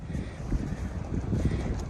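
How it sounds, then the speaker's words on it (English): Strong wind rushes across the top of the Avalanche Peak ridge in Yellowstone National Park, a continuous low buffeting roar close to the microphone. "It gets very windy at the top of this ridge."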